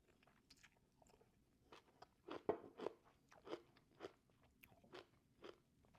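Close, crisp crunching of someone chewing crunchy fermented white cabbage sauerkraut, a run of irregular bites growing louder midway, with no talking.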